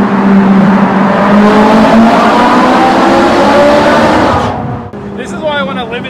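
Ferrari 458 Spider engine revving hard and roaring through a tunnel, loud and sustained with a reverberant growl, then dropping off abruptly near the end as a voice speaks.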